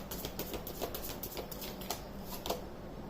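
Tarot cards being shuffled, a continuous soft riffling patter with repeated light slaps, close and quiet with no speech.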